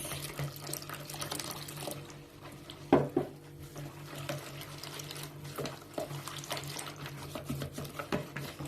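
Lukewarm water poured from a glass into a bowl while making Erzurum ayran soup, a soft continuous trickle with a brief louder splash near the middle and light clinks, no talking.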